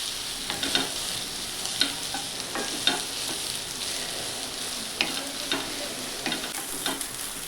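Vadis sautéed in a pan until brown, a continuous crisp sizzle broken by repeated scraping and clinking stirring strokes, close and moderately loud.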